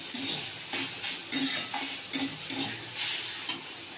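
Leafy greens stirred and sizzling in a home-cooked pan, with steady frying hiss and repeated scraping strokes of a spatula against the metal, close and moderately loud, no voices.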